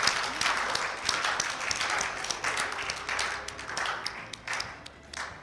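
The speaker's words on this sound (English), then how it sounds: "Keep clapping, it's good." Continued applause from an audience at a plaque presentation ceremony, a moderate crowd clapping steadily with individual sharp claps standing out throughout.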